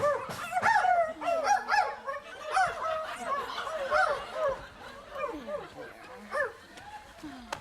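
A pack of dogs barks and yelps excitedly in overlapping bursts throughout, mixed with whoops and laughter-like voices in a staged, animated story scene.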